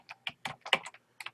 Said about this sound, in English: what we can do here is just go ahead and type in exploit